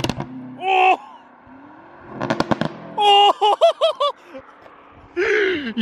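A tuned 825 hp BMW M8 Manhart exhaust pops and crackles in loud, sharp bursts, mixed with short excited vocal gasps and exclamations from people nearby.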